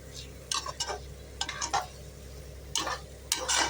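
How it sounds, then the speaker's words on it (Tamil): Rice is sautéed over high heat in a pot for mutton biryani: quiet sizzling under repeated scraping and clattering stirring strokes that come in short bursts, close by. "இப்போ இதை போட்டுட்ட பிறகு கொஞ்சம் ஹையில் வச்சு வதக்கலாம் இந்த ரைஸை வதக்கிட்டோம்னா பிரியாணி ரொம்ப டேஸ்டியாக இருக்கும்"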